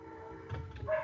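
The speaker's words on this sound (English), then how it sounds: "Dogs upstairs." Dogs bark and yip faintly from an upstairs room, a brief muffled burst over a low indoor hum.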